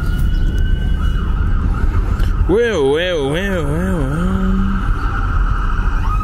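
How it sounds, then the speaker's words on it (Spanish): A police patrol car siren wails in the background on a city street, rising and falling in quick sweeps for about two seconds over steady traffic rumble while people talk nearby. "Chequen con todo y patrulla de fondo."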